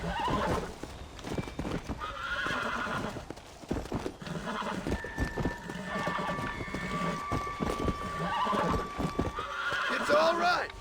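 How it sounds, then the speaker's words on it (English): A horse in the Red Dead Redemption Undead Nightmare game neighs and whinnies while being broken, hooves clip-clopping and stamping throughout, with someone talking excitedly over the struggle. "It's a zombie horse in a zombie game."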